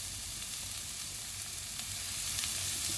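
Capsicum sautéing with softened onions over a high flame, giving a steady, continuous sizzle close by with faint stirring scrapes throughout.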